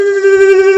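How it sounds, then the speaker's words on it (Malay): In the Kaskade video game, a crashing helicopter's warning alarm sounds as a loud, steady, buzzy tone held without a break for under a second. "Itu bunyi helikopter nak crash."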